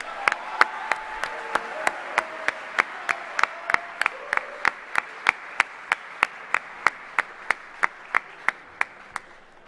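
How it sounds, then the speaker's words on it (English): Evenly spaced sharp claps, about three per second, repeat steadily through the whole stretch at an awards presentation, over a faint murmur of voices in the room. "Let's get a round of applause for these guys who do so much for us."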